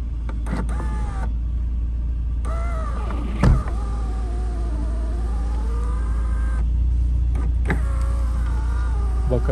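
Electric sunroof on a 1998 Daihatsu Pyzar 4WD van with 1.6L engine, a steady motor whine with shifting pitch as the panel slides, a brief knock partway through, inside the cabin without talk.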